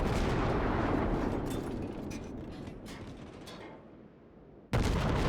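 Ship guns firing in a naval battle video game, a heavy rumbling salvo that slowly fades out, then another loud blast starts abruptly near the end.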